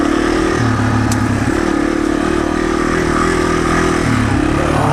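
A Yamaha TW200 motorcycle climbs a hill in second gear, its single-cylinder engine close and loud with a steady, chugging drone and slight shifts in pitch as it pulls up the slope.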